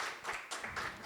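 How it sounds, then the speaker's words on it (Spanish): A short burst of audience applause at a Spanish-language reading event, quick and fairly quiet, lasting about a second. "Un aplauso."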